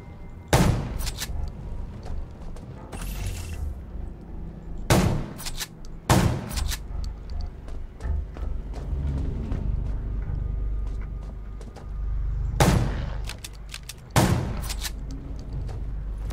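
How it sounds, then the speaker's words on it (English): Gunfire against zombies in the survival game Undawn: about five sharp, loud single shots, spaced several seconds apart over a low ambient rumble. "Gunshots will attract more."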